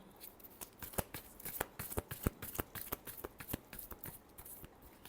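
Tarot cards are shuffled close up in a quick run of crisp, papery riffles and taps, with no voices over them.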